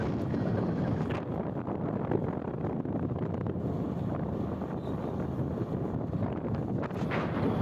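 Wind buffets the microphone on a moving motorbike, a steady loud rushing roar with gusty swells and no clear engine note, continuous throughout without talk.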